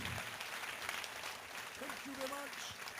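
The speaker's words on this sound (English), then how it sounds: "Please give a warm Cyprus applause for Mo here." An audience at Cyprus Comic Con 2019 applauding a guest, a crackling wash of clapping with voices talking and calling out over it.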